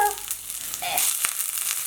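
Chopped onion drops into a preheated pan and sets off a bright, close sizzle that swells and then holds at a steady hiss for under two seconds.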